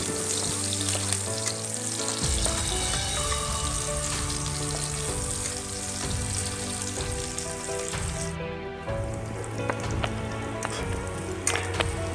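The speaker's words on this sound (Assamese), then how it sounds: "ভালদৰে পিঁয়াজখিনি ৰঙচুৱা পৰালৈকে ভাজি থাকিম" A steady, crackling sizzle of onions frying in hot oil until browned fills the clip, close and continuous, with occasional stirring clinks.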